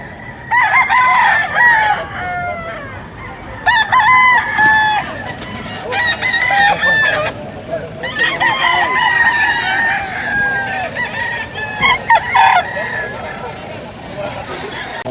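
Roosters crow repeatedly, loud and near, among clucking chickens at a busy poultry market in Bocaue, with people talking and crowd babble underneath.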